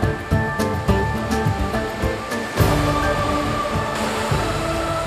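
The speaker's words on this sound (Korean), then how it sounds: "사나운 파도가 넘실거리는 이곳은 콩고강입니다." Rough, surging waves on the Congo River in the Democratic Republic of the Congo, a dense continuous roar of churning water with repeated swells and crashes, loud and close, no voices.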